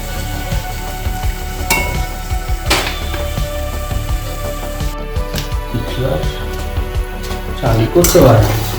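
Palm fruit fritters (tal bora) frying in hot oil, a steady sizzle running throughout with occasional clinks of a utensil and a louder stir near the end, while a person talks over it.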